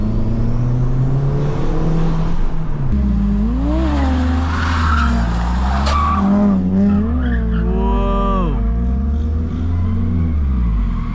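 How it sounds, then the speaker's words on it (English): A 500bhp Honda Civic FN2 Type R revs hard and spins its wheels during a night race, its loud engine note sweeping up and down through repeated rises while tires squeal and skid. "Now it's revving up."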